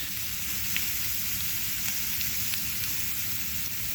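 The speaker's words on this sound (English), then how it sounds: "That is added first, and you kind of just saute it in the oil." Carrot and beans sauté in hot oil for avial, giving a steady, close frying sizzle with faint scattered crackles and no talking throughout.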